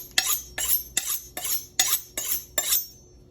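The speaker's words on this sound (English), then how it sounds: "Now, as always, go ahead and sharpen your knife." A kitchen knife is drawn across a sharpener seven times in an even rhythm, each stroke a bright, close metallic scrape separated by short pauses, before frying tortilla chips.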